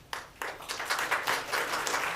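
An audience bursts into applause at a joint legislative hearing on family court in Arizona, the clapping starting scattered and quickly swelling into steady, fairly distant applause that fills the room.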